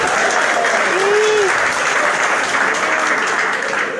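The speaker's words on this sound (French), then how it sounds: "Est-ce qu'on peut applaudir le président?" Applause from an audience honouring the president at a political party headquarters reception, a loud, dense and steady wash of clapping lasting the whole stretch, with a brief faint whistle-like tone rising through it.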